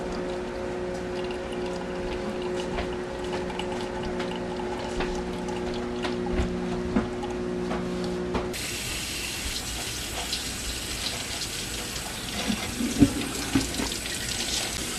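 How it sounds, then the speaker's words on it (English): Glycerin being poured into tea: a steady watery pouring sound for the first half, then a brighter, hissier liquid stream continuing to the end, fairly close with no talking. "pour glycerin in to the tea so that we can use it as a preservative"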